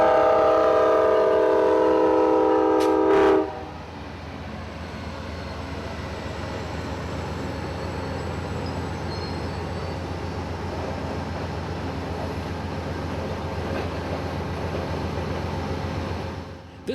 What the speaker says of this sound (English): I'm here just in time for Amtrak's Silver Meteor, fresh out of Miami on its way to New York.